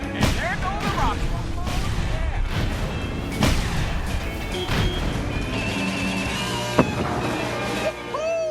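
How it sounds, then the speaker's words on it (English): Rockets fire and burst in a Cars 3 video game takedown event, a dense run of booms, crashes and whooshes over a steady game soundtrack, with a sharp blast near the end and a voice speaking over the action. "And there go the rockets."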